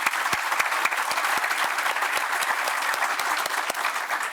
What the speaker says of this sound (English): Maybe we could just give a big applause for the amount that's gone into this.